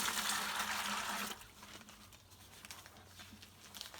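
Water pours steadily into half a bag of tile mortar mix for about a second, then gives way to quieter splashing and trickling, faint and nearby.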